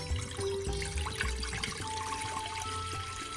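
Water pouring into a soup pot for a vegetable winter soup, a steady splashing, trickling stream heard close up, with no voices.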